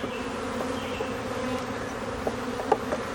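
Honey bees buzz steadily around two hives outdoors, a dense close hum with individual bees whining past now and then.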